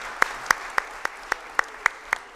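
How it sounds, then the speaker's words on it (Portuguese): At a solemn session for the 2023 Fraternity Campaign, a few people clap in a slow, evenly spaced rhythm: about eight distinct, sharp claps over a quiet background. "Mais uma salva de palmas para todo mundo."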